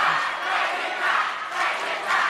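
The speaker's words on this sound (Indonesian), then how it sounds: "Kami persilakan beri tepuk tangan yang meriah untuk paslon nomor urut 1 dan nomor urut" Audience at a West Java gubernatorial candidates' debate applauds and cheers loudly, a dense steady wash of clapping and crowd noise with no talk, swelling slightly in waves.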